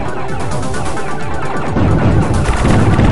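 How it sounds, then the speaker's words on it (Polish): Rapid gunfire from a rear weapon firing sideways at maximum power level in the shooter game Tyrian, a dense, loud, continuous stream of shots with rattling explosions building toward the end. "A, już strzela sobie na boki, co tam?"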